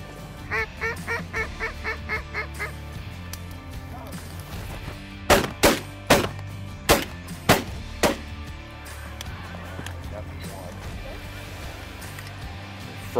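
Ducks and geese call in a prairie field during a waterfowl hunt, a rapid run of quacks near the start followed by a string of loud, sharp gunshots, with faint voices in the background.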